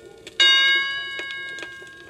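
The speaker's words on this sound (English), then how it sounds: "when you hear the chime," A single bright chime rings out and slowly decays, marking a page turn on a Strawberry Shortcake storybook record played on a Victrola portable turntable, with faint ticking underneath.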